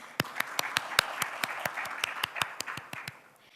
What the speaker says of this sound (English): A huge round of applause for API.